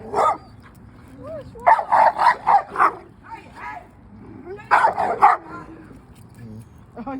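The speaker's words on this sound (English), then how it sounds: "Why are the dogs so aggressive?" Several dogs bark aggressively in loud rapid bursts, a run of four or five close barks followed by another cluster, with people talking in the background between bursts.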